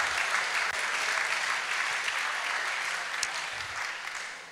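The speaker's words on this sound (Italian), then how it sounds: "Fate un applauso, Dio vi benedica." A church congregation applauds together in a steady, dense wash of clapping that holds for several seconds and eases off slightly toward the end.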